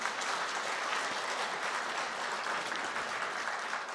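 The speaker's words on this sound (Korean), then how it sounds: "부족한 우리들에게 새해도 주시고 새 생명도 주시고 새 은혜를 주실 하나님께 영광의 박수를 올려드리겠습니다" A church congregation applauding together at a New Year thanksgiving Sunday service, a steady, dense wash of clapping that holds evenly throughout without pauses.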